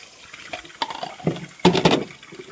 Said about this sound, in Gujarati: એટલી વાર હવે હું આ ડોલો ભરી દઉં